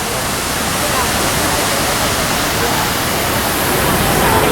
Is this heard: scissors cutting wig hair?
no